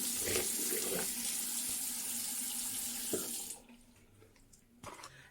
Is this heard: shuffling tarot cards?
no